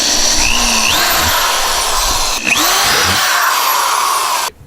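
A power drill whines loudly and steadily with rising and falling pitch as it drives a screw to install a kayak rod holder, pausing briefly midway, then cutting off abruptly at the end.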